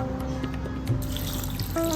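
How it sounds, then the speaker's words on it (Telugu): Water is poured onto a cup of jaggery in a kitchen vessel to soak for panakam, a steady close trickling and splashing over faint background hum. "సరిపడా నీళ్లు పోసేసి నానబెట్టుకోవాలి"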